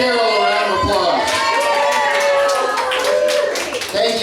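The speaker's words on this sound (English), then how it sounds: "Give Daryl a round of applause." At a live show in a venue, a crowd claps and cheers in a dense, continuous wash, with loud voices shouting over the noise.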